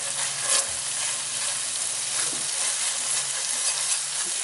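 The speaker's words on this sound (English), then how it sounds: "I'm going to add my 6 cloves of garlic in here, and then just mix that up in here" Six garlic cloves sizzle steadily in a pan over medium-low heat, with a continuous close frying hiss and occasional scrapes and clicks of stirring, no voices.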